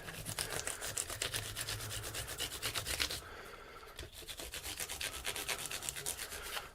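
An Ibanez RG4EX1 guitar's frets being polished with 8000-grit emery cloth, a close, rhythmic back-and-forth rubbing with quick even strokes, a brief pause near the middle, then the scrubbing resumes.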